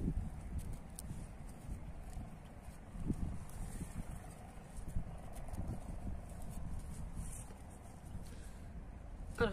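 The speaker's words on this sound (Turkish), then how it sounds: "Rüzgarlı bir hava." Steady wind buffets the microphone outdoors, a constant low rumble with gusts swelling and easing, alone with no voices.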